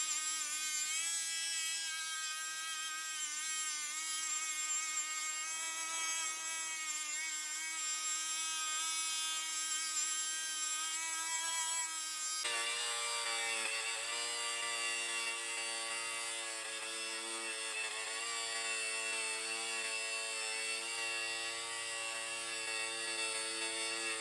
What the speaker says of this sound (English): I used some aluminum polish with my buffing wheel powered by my Ryobi